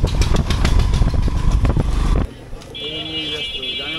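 A secondhand motorcycle engine runs loud and close with a rough, pulsing clatter for about two seconds, then cuts off abruptly, leaving quieter background noise and a voice.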